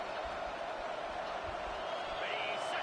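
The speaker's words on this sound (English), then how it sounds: "It is getting loud as this crowd tries to help its defense." A stadium crowd at a football game sends up a steady, loud roar of many voices as it rises to back its defense, with a commentator talking over it.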